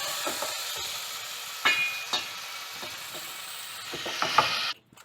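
An electric grinder whirs as it grinds roasted spices for a gravy, a steady buzzing drone broken by a few sharp knocks. The motor cuts out abruptly near the end.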